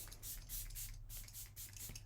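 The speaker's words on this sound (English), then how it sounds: "I've been using the Omra Visca Queen of Hungary mist, which is also great. It's a very thin spray" An Omra Visca Queen of Hungary face mist sprayed several times in quick succession, a series of short, soft, airy hisses close by in an otherwise quiet room.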